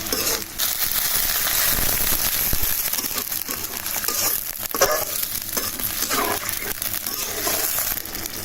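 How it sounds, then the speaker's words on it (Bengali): Browned onions with green chillies sizzling in a pan as water is poured in for a fish curry, producing a loud, continuous crackling hiss with bursts of spitting throughout. "পেঁয়াজটা আমার ভাজা হয়ে গেছে বাদামি কালার আসছে এখন আমি কষানোর জন্য পানি দিয়ে দেবো"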